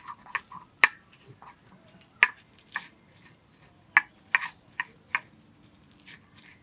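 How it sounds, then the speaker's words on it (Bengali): Fried whole cumin and coriander seeds are ground into a paste, giving irregular sharp clicks and knocks, some louder than others, against a quiet background with no talking. "এবার ভাজা মশলাগুলো বেটে নেব।"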